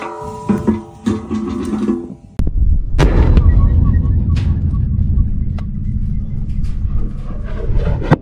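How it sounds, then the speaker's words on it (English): A blast of two pounds of ANFO with half a stick of dynamite sets off a sudden deep boom and a long rumbling roar that fades slowly, following some brief handling and clatter. "2 pounds of ANFO. Half a stick of dynamite."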